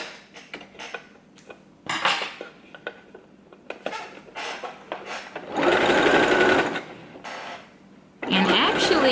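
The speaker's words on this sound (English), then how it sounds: "we're going to do a zigzag stitch all the way down" Sewing machine running a zigzag stitch along the folded hem of a swimsuit, a close rapid chattering whir in two sustained bursts, with clicks, fabric handling and brief talk between runs.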